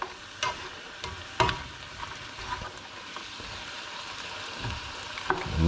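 Vegetables frying in a stir fry crackle with a steady, dense sizzle, broken by a few sharp pops and stirring clatters from the pan. No one speaks.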